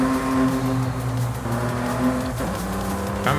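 A 2.8 litre V6 car engine in Forza Horizon 5 hums steadily at a mid rev, its rich harmonic drone holding, then dipping briefly and rising again, close and continuous with no talk over it.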